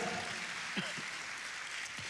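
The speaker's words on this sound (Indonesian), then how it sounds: "Tepuk tangannya yang sangat meriah." Applause from a church congregation during a sermon, a steady broad wash of clapping with a few voices mixed in beneath it.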